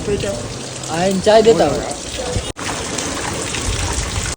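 Heavy first-season rain pours steadily onto a road, a constant broadband wash with a person talking over it near the start.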